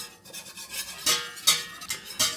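A whisk works flour into melted butter: quick raspy scraping strokes in a rough rhythm, several sharper swishes standing out, close up and with no voices.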